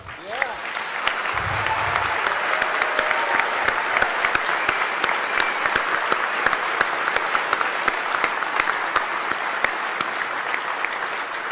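A large audience at the DEF CON 20 closing ceremony gives a long, sustained round of applause for the Mystery Challenge teams, dense clapping with sharp individual claps standing out and a brief low thump near the start.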